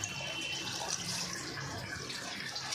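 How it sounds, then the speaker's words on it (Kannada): Water pours into a pot of bisi bele bath, a steady soft splashing stream that stays faint and continuous throughout, with no talking. "4 ಲೋಟ ನೀರು ಹಾಕ್ಕೊತಾ ಇದ್ದೀವಿ."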